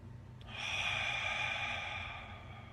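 A slow, deep relaxing exhale or breath drawn through the nose during seated meditation, one long steady airy breath that swells and fades over a couple of seconds, close and soft, with no talking.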